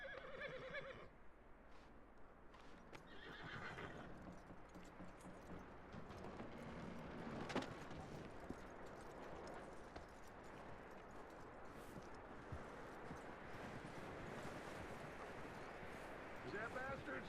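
Horse sounds in the Red Dead Redemption 2 video game, a whinny and hoof clip-clop with mechanical clicks amid game ambience, fairly quiet under background noise with voices talking.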